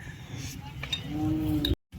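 Cattle low at a huge cow festival market in Maharashtra, with one drawn-out moo heard close and clear over a busy outdoor murmur, with no talk.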